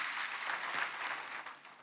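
A church congregation applauding during a sermon, a short burst of many hands clapping together in a room, moderately distant and fairly quiet.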